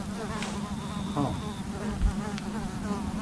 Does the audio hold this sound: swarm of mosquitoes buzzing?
yes